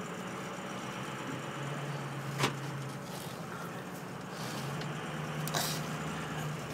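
A 2004 Ford F350 King Ranch diesel pickup drives along with a steady, close engine drone and road rumble, broken by a couple of brief sharp clicks or knocks.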